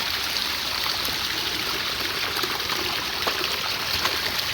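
Steady rushing and trickling of river water running high after several days of heavy rain in rural Thailand, a continuous close wash of flow with no voices.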